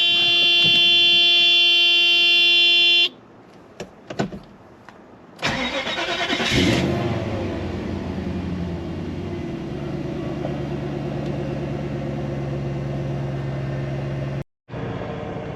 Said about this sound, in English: Let's see how she does on startup.